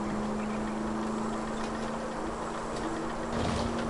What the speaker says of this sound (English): I know the engine sounds like it's rattling,